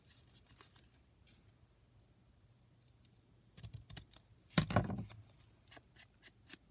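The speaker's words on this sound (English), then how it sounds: "I'm going to trim it down a little bit so it fits a little better." Scissors trim paper for a faux journaling envelope, quiet scattered snips and rustles, then a louder cluster of cuts followed by a few light clicks, close and alone.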